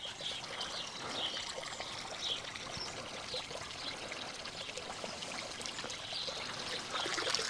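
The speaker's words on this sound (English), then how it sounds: "Now we've got nice clean water running back into it again." Clean water runs and trickles back into a carp pond in a steady, close splashing stream with no talk over it.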